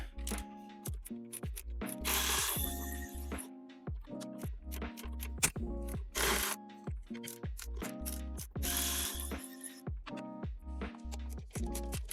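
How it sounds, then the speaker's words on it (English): A ratchet wrench loosening 8 mm bolts holding a plastic panel under a Ford Bronco bumper, with rapid clicking runs repeated in bursts separated by short pauses, close and clear, no talking. "there appears to be 7 or 8 of these 8 millimeter bolts on the back holding this piece of plastic on. So we'll go through, start removing them"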